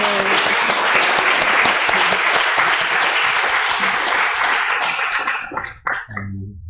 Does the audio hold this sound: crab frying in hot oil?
no